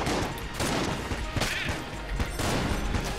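Repeated shotgun blasts from the pixel-art twin-stick shooter Enter the Gungeon, a dense run of bursts and crashes filling the whole stretch with little pause, loud and close within busy game sound.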